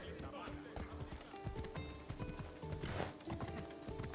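Horse hooves in the video game Assassin's Creed Odyssey, a quick, steady clip-clop of galloping hoofbeats close by with soft tack sounds, as people speak over it.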